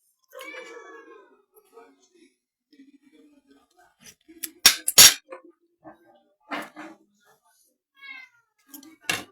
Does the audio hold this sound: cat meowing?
yes